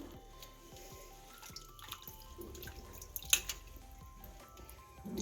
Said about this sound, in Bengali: এই মাছটা ছাড়াচ্ছি এখন।